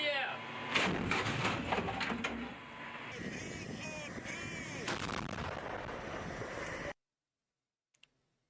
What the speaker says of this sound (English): We now see the MLRS firing.